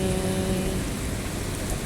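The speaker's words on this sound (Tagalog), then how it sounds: "ang lakas-lakas po ng ulan dito" Heavy rain pours down in a dense, continuous hiss that stays loud and steady from start to finish, with no voices.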